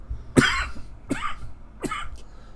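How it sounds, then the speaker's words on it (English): Three separate coughs from a person indoors, spaced roughly evenly apart. The first is the loudest and the next two are a little softer, with no talking in between. "I am fighting some coughing, so bear with me on that."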